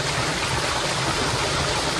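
Water in a stream rushes steadily near small waterfalls on a rural property, a loud continuous broadband wash, close and unbroken, with no voices.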